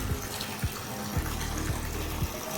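Steady rushing water from a motor pump pours into a farm field without pause, with soft low thumps repeating about every half second beneath the flow.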